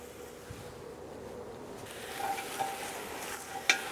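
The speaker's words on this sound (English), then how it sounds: "Again, give it a nice stir, make sure everything's well incorporated" Faint stirring of ratatouille vegetables, including aubergine, in a pan. Soft scraping and gentle sizzling sit over quiet background hiss, with a small clink near the end.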